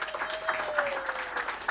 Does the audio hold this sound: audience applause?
yes